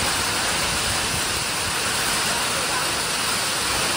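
Heavy rain pours outdoors near Raigad fort, a loud, dense and unbroken roar of falling water that holds steady throughout.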